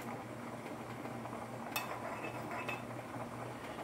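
A utensil stirs beeswax melting in a pot for an herbal salve. It makes a faint, low background scrape with two small metallic clinks against the pot, and no talking.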